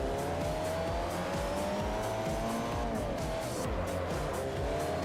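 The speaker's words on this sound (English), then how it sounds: "Light the tires up." In Forza Motorsport 4, a race car's tires shriek in sustained wheelspin under a loud, revving engine, the squeal wavering continuously and close throughout with no talk over it.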